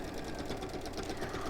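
A sewing machine stitches over a nylon zip with a fast, steady mechanical whirring and rattling. It stays close and continuous throughout.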